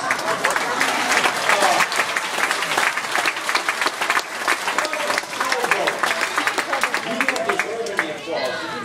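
Audience applause fills an outdoor bear show at a trading post, dense steady clapping from a crowd throughout, with scattered voices and chatter mixed in.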